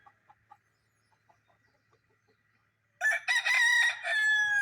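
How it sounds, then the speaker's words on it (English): Farm chickens give a few soft, scattered clucks in the quiet before a rooster bursts into a loud, close, drawn-out crow that fills the final stretch. "Ignore the chickens."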